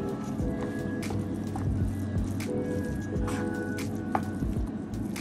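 A spoon works through moist cornbread dressing in a bowl, giving soft wet squishes and muffled stirring strokes in an uneven rhythm, close by and fairly quiet, with no talk.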